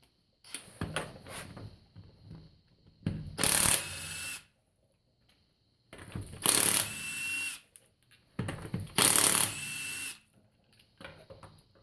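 A power tool removes the front wheel lug nuts on a Lincoln Continental, in three loud whirring bursts of about a second each separated by pauses, close by, with lighter mechanical clatter between them.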